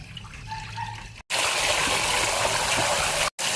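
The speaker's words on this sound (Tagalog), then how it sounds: "Hugasan na natin ating malagkit ng 3 beses." Glutinous rice is rinsed in water, running water gushing and splashing in two steady bursts split by brief cuts, after a softer stretch of quieter trickling.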